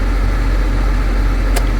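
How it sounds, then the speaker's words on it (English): Black & Decker 8,000 BTU portable air conditioner running on its own: a steady, loud broadband hum with a low rumble, constant throughout with one brief higher click near the end. "And this is the sound of the new air conditioner."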